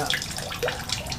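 Water splashes and gurgles as a pump fills a container around a Mercury Thunderbolt 500 50hp outboard with a gasket failure, with a few bright drips over a steady low hum.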